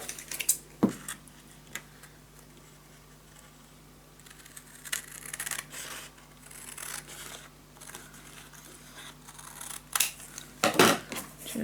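Scissors snipping paper to trim it for a handmade mini album, a few sharp separate cuts and rustles spaced across a quiet room with no speech.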